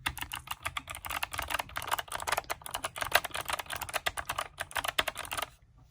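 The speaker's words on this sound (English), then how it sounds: "Keyboardia Model 100. Check out this baby here. Actual wood grain. An actual any key." Rapid, close clicking of typing on a Keyboardia Model 100, a clicky mechanical keyboard with a real wood-grain case, runs as a dense, steady patter of keystrokes and stops abruptly just before the end.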